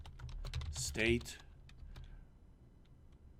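Typing on a computer keyboard during data entry, a run of quick light clicks mixed with someone talking over them, fading to sparse taps and then quiet.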